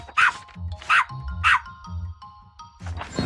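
A dog in Honkai Star Rail, the companion called Woof, barks in several short, bright yaps spaced about half a second apart, with a low musical game score running underneath and no one talking.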